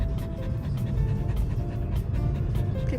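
A dog pants steadily in fast rhythmic breaths, close by, over a constant low rumble like a moving car cabin.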